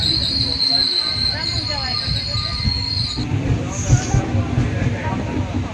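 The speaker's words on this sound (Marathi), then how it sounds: "कडप्पा रेल्वे स्टेशन या ठिकाणी आपण आता येऊन पोहोचलेलो आहोत" The Aurangabad Tirupati Express running at Kadapa railway station, with loud rumbling wheels and a high metallic squeal that cuts off partway through, under a murmur of voices.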